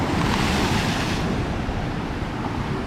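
Stormy sea waves crashing on the shore at Yalta, a dense continuous roar of surf mixed with heavy wind buffeting the microphone, close and loud with no talking.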